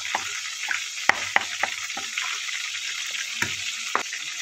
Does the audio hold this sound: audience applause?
no